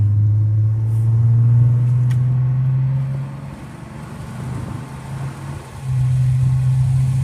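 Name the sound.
1989 Toyota Cressida being driven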